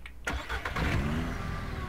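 A UTV engine in the Ranch Simulator video game cranks and catches, then settles into a steady mid-pitched running drone, fairly close and alone.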